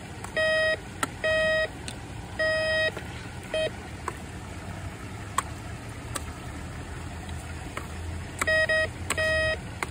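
A metal detector sweeps a river bed during a treasure hunt, giving repeated short electronic beeps in clustered pairs and groups over steady flowing-water background noise, with no speech.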